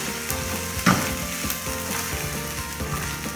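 Egg fried rice sizzling steadily in a hot pan as it is stirred and mixed, with a scrape of the utensil near the start and no talking.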